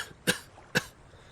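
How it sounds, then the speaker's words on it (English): Two sharp, close coughs about half a second apart, each a short rough burst, in a quiet setting after a man loses his gear by a river. "After coughing a few times,"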